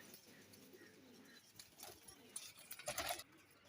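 A pigeon coos faintly nearby in a quiet setting, soft rolling calls building toward a louder burst near the end with a brief flutter-like rustle.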